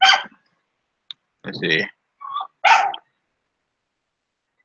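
A dog gives a few short, sharp barks spaced apart in otherwise quiet surroundings, close by, with a brief spoken remark between them.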